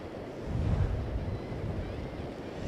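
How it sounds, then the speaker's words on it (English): Strong wind gusts roar across a beach during Tropical Storm Isaias while surf churns beneath, a steady, low, rumbling wash of wind noise with no voices. "right now we are seeing strong wind gusts"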